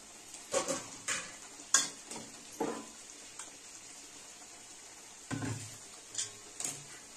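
Mutton roasting in masala until the oil separates: a soft steady sizzle under repeated clinks and scrapes of a spoon stirring against the pot, with no talking.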